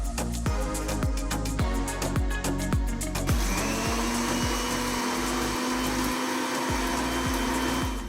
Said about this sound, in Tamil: மூணு மணி நேரம் கழித்து முதல்ல பச்சரிசியை மிக்ஸி ஜாரில் போட்டு அரைக்கணும்.